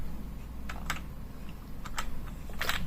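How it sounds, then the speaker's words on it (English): Typing on the plastic keys of an NPET K10 gaming keyboard, a few clicky, clacky keystrokes in small clusters over a steady background hiss, close and moderately loud. "the keys make some noise and they're kind of plastic"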